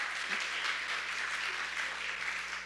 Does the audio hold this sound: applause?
yes